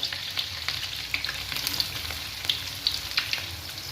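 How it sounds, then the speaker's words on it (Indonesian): Tempe pieces drop into hot oil for sweet and spicy oreg tempe, giving a steady crackling sizzle scattered with sharp pops and spits, close and alone with no talking. "Nah kalau udah minyaknya seperti ini, kita masukin tempenya ya."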